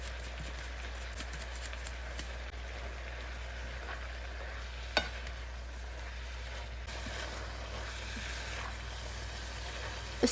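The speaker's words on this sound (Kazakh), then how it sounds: "дәміне қарай тұзды қосып жақсылап қуырып аламыз" Onion, tomato, greens and bell pepper fry with salt in a pan, giving a soft continuous sizzle with occasional light clicks of a spatula and one sharper knock midway.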